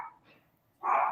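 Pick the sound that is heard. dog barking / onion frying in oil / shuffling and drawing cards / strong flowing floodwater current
dog barking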